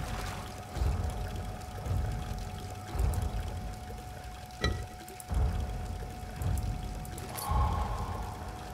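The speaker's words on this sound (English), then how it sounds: "I guess I just have to put the gasoline in there again." Gasoline poured out in the horror video game Amnesia, a repeated glugging pour in several bursts roughly once a second, moderately loud and close, with no talk over it.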